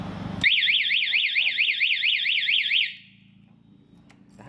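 Car anti-theft alarm siren on a Thai car, set off after the remote lock is pressed twice: a loud, fast warbling electronic wail that starts abruptly, holds for about two and a half seconds, then cuts off into quiet.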